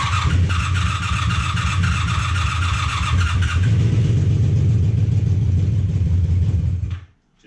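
An abandoned 1980s superbike motorcycle engine runs loud and close with a steady rough rumble and some higher revving early on, then cuts off abruptly near the end.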